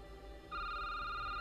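Telephone ringing in The Gatekeeper's Mystery video game, a clear electronic ring tone that starts about a third of the way in and holds steady over a low background hum.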